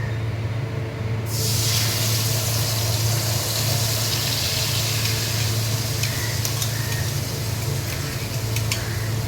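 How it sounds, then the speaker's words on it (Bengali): A paste of ground ginger, cumin, fennel and green chili goes into hot oil, setting off a sudden loud, steady sizzle over a low burner hum, with a few light clinks near the end and no talk. "তেলে দিয়ে দিলাম এই আদা বাটা।"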